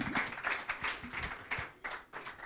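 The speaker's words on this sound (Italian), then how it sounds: "Un applauso per Cristian Pardo." Scattered applause for a futsal player at an Italian futsal event, a small crowd's clapping in uneven bursts, fairly faint and distant, heard on its own.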